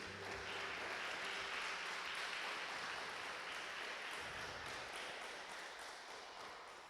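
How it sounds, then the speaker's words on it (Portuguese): Church congregation applauding during a worship service, a sustained wave of many hands clapping that fills the space and gradually fades toward the end, with faint voices. "Quantos podem aplaudir o Senhor?"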